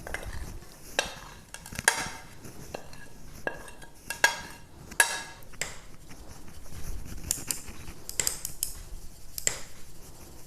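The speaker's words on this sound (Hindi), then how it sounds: "अब इस मसाले को एक बार और छान लेंगे" Homemade masala spice mix is pushed through a sieve, giving a run of irregular scraping, tapping and metallic clinks from the sieve and utensils, moderately close and uneven in rhythm.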